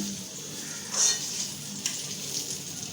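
Eggplant slices frying in a pan with a soft, steady sizzle and a couple of brief, sharper spits and crackles.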